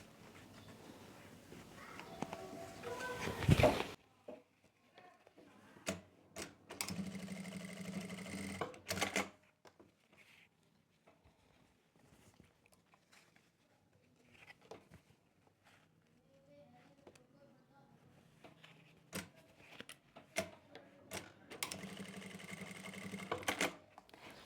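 An electric sewing machine runs in a few separate bursts, stitching elastic into open palazzo pants, with quiet handling clicks and rustles of fabric between the runs.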